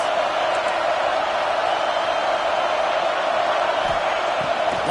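A loud, continuous stadium crowd roar from a football video game, a steady wash of massed voices with no break throughout.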